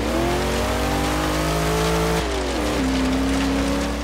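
A stock-engined 1990 Chevy Camaro in the racing game Forza Horizon 3 holds a loud, steady engine drone that shifts pitch partway through, dipping and then settling at a new tone as the revs change, with no talking.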